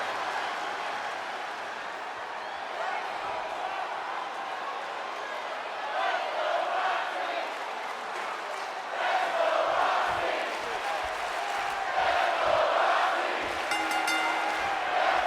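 A wrestling arena crowd at an NXT triple threat match makes a steady, distant roar of cheering, swelling louder toward the end, with commentators talking over it.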